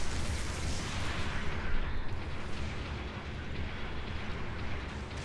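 Rocket launcher fire from a mobile suit in a mecha combat game, a heavy roaring blast and rumbling explosion noise filling the whole span, loud and steady with no talk.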